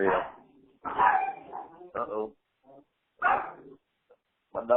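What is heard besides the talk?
dogs barking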